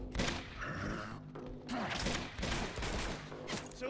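Bursts of gunfire and chaotic battle noise in the video game Uncharted 2, loud repeated shots with clattering mechanical sounds and brief gaps between volleys.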